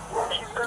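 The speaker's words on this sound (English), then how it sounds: "Just make sure that dog don't come out." A dog gives a short, close yip or bark over someone talking, brief and sharp.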